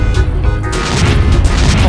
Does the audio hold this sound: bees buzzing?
no